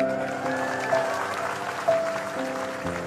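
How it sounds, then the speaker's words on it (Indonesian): A crowd of students, military and police personnel applauds at an Indonesian gathering, with steady clapping and a couple of brief louder bursts. "Tepuk tangan semuanya"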